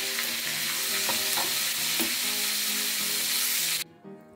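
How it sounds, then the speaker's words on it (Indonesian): Tomatoes frying in hot oil in a pan for sambal, a loud steady sizzle with a few stirring scrapes, cutting off abruptly near the end. "Terakhir kita goreng tomatnya"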